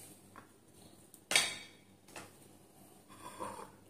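Minced onion, garlic and canned corned beef stirred together in a bowl, with a few scattered utensil clinks and scrapes and one sharp louder clatter early on, close and alone.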